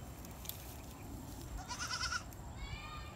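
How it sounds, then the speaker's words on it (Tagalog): A goat bleats nearby in a short wavering cry, heard over a steady outdoor background with no talking. "ang aming alagang kambing."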